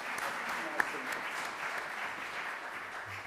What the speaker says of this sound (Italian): c'è l'applauso